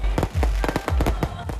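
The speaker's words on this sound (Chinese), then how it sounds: "超过暗时10点放烟火" Fireworks set off late at night at the Dashu Ye temple festival in Minxiong, Chiayi, Taiwan, popping in a rapid, irregular string of sharp, loud bursts and crackles.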